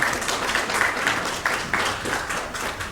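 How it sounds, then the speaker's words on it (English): Audience applause at a Mississippi Valley State University mass communication speaker series, a steady wash of clapping at moderate level with a few sharper bursts, lasting throughout. "That's an applause right there."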